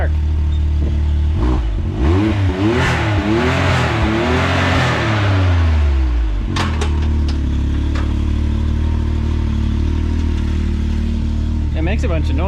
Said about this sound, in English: Throw it in neutral and rev it.